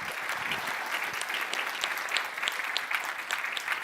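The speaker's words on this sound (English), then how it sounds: "So please join me in thanking our panelists for the great discussion, and give him a round of applause." Audience applause for panelists at a strategic security conference, a steady dense clapping from a fairly distant crowd that stays even throughout with no voices.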